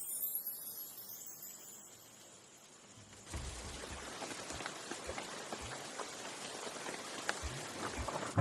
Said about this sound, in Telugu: వర్షం గట్టిగా పడుతుందిగా